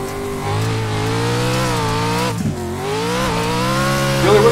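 Racing car power sliding on a dirt road track in a video game, a loud steady engine drone with shifting pitch, a brief dip midway, then revving up again.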